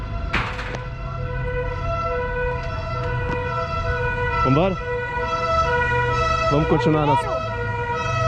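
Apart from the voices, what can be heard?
fire department ambulance siren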